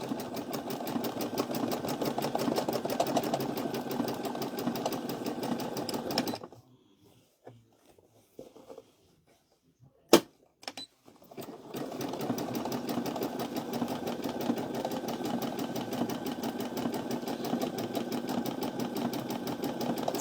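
A sewing machine stitches a zigzag close around the edge of a bunny appliqué on a dish towel. Its rapid, steady mechanical hum runs, stops briefly with a faint click, then resumes for a long stretch.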